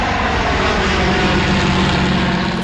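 A de Havilland Mosquito bomber's engines drone loudly and steadily in a dense, continuous roar without any gaps, as the wartime aircraft passes close by.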